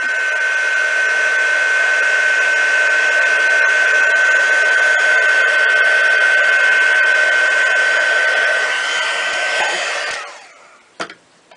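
A craft heat tool blows over clear embossing powder on a white card, making a loud, close, continuous whirring hiss with a steady whine that runs for about ten seconds before switching off with a few small clicks.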